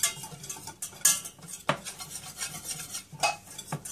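Flour is stirred into melted butter in a pan, with close scraping and clinking of a utensil against the metal in irregular strokes over a faint sizzle, and no talking.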